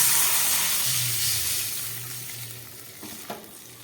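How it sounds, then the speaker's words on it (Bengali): Water poured into a hot pan of spluttering panch phoron spices, a loud hiss and sizzle that slowly fades over a few seconds, with a faint clink of a spatula near the end. "কয়েক সেকেন্ড ভাজার পরে এবার দিয়ে দিচ্ছি এর মধ্যে জল"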